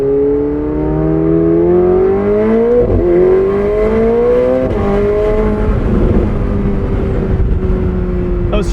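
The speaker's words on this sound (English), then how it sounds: "Those shifts in sport mode are absolutely brutal." A McLaren 750S in sport mode pulls hard on an open road, its engine note climbing loudly then dropping abruptly at a gear shift before rising again, steady and close throughout with no voices.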